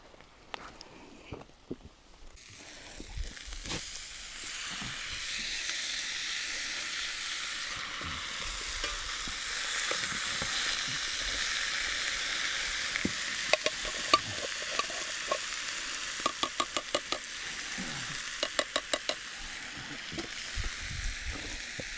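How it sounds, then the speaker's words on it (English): Canned beans warm in a frying pan over a campfire outdoors, giving a steady, soft sizzle and bubbling that grows after an initial rustle, with light taps and clicks of a utensil against the pan later on. "I'm going to attempt to dump my beans into the pan and warm it up in the pan"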